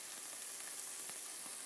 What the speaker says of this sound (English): And now we're going to saute our leeks.